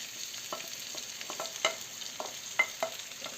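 Minced meat with onion frying in a pan, a steady soft sizzle broken by several sharp scraping stirs and spatula taps, close and fairly quiet with no talking.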